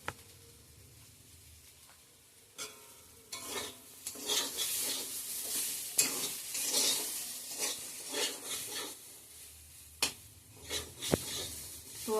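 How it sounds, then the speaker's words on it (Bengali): Potato fry sizzles in a pan while a spatula scrapes and stirs it in repeated bursts, with occasional sharp metallic clinks against the pan, close and fairly loud, no talk. "তো আমার বটবটি আলুর ভাজাটা আমার হয়ে গেছে, এখন নামিয়ে নেব।"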